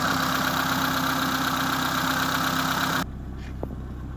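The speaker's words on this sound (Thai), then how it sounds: "อันนี้พัดลมของเครื่องยนต์ นะครับ" A car radiator cooling fan roars steadily alongside an idling Mitsubishi E-Car 4G15 engine, then cuts off abruptly after about three seconds, leaving only a lower engine hum.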